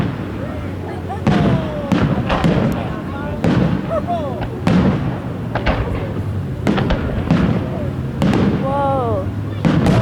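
July 4th fireworks launched from a barge over South Haven, Michigan boom and crackle in a series of loud bursts at irregular intervals, whistling shells rising between them, while onlookers chatter and exclaim throughout.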